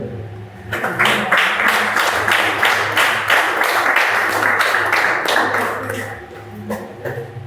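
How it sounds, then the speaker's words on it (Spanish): A church congregation gives loud, sustained applause that swells and fills the hall, with voices mixed in underneath. "Den un fuerte aplauso al Señor."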